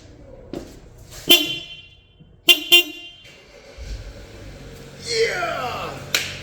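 Honda Civic horn fitted to a Honda Accord, several short loud honks in quick bursts, close by, with brief voices and clicks between the toots.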